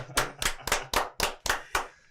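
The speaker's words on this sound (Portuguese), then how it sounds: "Palmas." A small group clapping in slow unison for a singer being introduced on a church podcast, seven or eight sharp, evenly spaced beats, close and clear with no talking.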